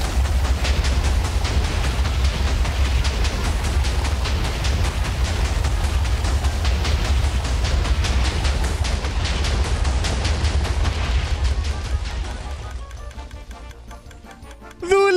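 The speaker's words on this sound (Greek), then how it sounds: "Το κανόνι με εξαφάνισε το χωριό!" A TNT cannon blasting a village in Minecraft: a dense, continuous barrage of loud rumbling explosions lasting many seconds, thinning out toward the end before a final burst.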